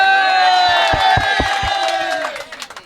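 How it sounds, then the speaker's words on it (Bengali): A crowd at a cattle market cheers and whoops loudly for Manju, sustained shouting voices with a few sharp claps, tapering off toward the end. "মঞ্জু ভাইয়ের জন্য তালি হবে"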